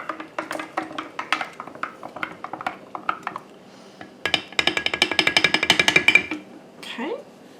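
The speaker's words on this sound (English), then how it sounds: "Okay, I'm going to stir my starter up." A spoon stirs a sourdough potato bread starter in a jar, giving a run of quick wet clinks and scrapes, then a denser burst of rapid stirring strokes, close and fairly loud.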